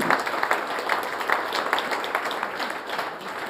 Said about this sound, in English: she should already have an applause right now